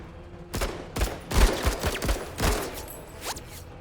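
Scattered gunfire in the tactical game MENACE, several sharp cracks and short volleys at uneven intervals over a few seconds, some near and some more distant, with no talking.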